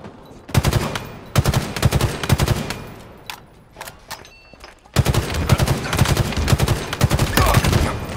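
Rapid automatic gunfire in Halo Infinite, loud and close, in long sustained bursts with a short lull of scattered single shots midway before another long volley.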